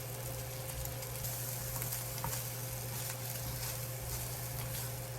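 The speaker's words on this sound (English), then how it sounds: "I want to do fry them a little bit." Fries sizzling and frying in fat in a pan, a steady dense crackle running unbroken at moderate level with a low steady hum beneath, no talking.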